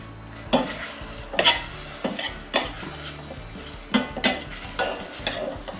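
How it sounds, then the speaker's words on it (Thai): Pork neck dry-roasting in a pan over a gas stove with a splash of water, a steady close sizzle broken by repeated scraping stirs of a utensil against the pan, with no talking. "เปิดเตาแก๊สเลยค่ะ เราจะคั่วให้หมูเราสุกนะคะ"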